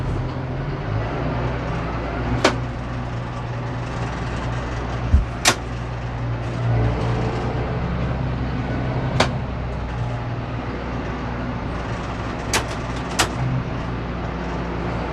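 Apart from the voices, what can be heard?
Gator utility vehicle driving back and forth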